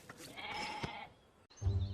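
Goats on a farm bleating, a faint wavering cry followed after a short gap by a louder, lower bleat, heard alone without talk.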